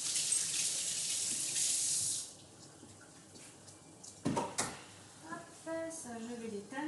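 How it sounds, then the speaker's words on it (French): Tap water runs steadily into a sink as fingers are rinsed after making sushi and maki, a loud close splash for about two seconds before it stops; handling clatter and a person talking follow. "Je me rince les doigts un petit coup."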